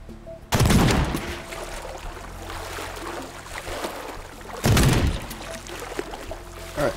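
A minigun in the Teardown game fires two loud, dense bursts, one longer near the start and a shorter one later, with rumbling debris and crackle lingering between them.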